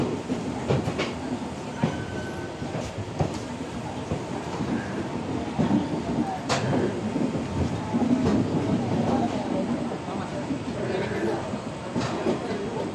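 The Antyodaya Express rolls out of Tambaram, a loud, steady rumble of rail cars with a rhythmic clickety-clack of wheels over joints, heard close from on board, with faint chatter in the background.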